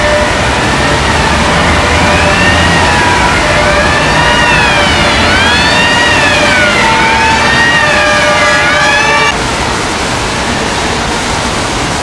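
A wailing emergency siren rises and falls repeatedly over steady city traffic noise on a street in Madrid or Toledo, Spain, fairly loud, then cuts off near the end, leaving the street hum.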